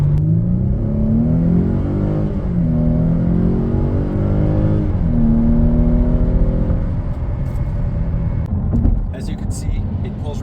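A 2011 Mercedes-Benz C350 (W204) with a 268-horsepower engine accelerates hard from inside the cabin, its loud engine note climbing steadily in pitch through successive gear changes, with brief drops between shifts before settling into a lower, steady drone.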